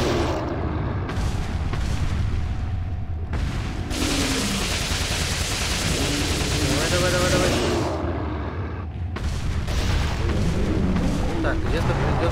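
Gunfire and heavy booming blasts in the Resident Evil video game, loud and dense, sustained across the clip with brief gaps, layered with game noise.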